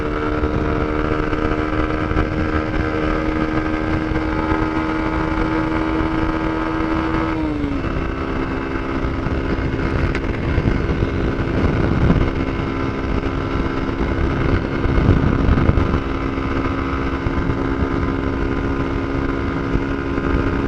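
A Bajaj Discover 125 ST and a Yamaha YBR 125 ride along a road, their engines droning loudly and steadily, with a brief pitch shift as one overtakes the other.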